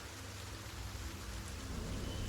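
Steady heavy video-game rainfall in The Pillars of the Earth hissing evenly with a low rumbling undertone, continuous and fairly loud, no voices.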